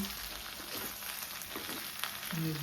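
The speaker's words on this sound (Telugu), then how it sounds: "ఆయిల్లో చూడండి ఎంత చక్కగా వేయిపోయినాయో మిరపకాయలు" Okra and green chillies fry in hot oil for a pickle, giving a continuous close crackling sizzle with a few soft stirring scrapes and no voices.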